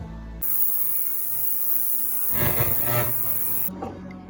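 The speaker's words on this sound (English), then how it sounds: "Put those in the ultrasonic cleaner." An ultrasonic cleaner, used on parts during a 1984 Honda CBX750 restoration, switches on with a steady high-pitched whine over a low electrical hum, runs for about three seconds with some added rattling, then shuts off.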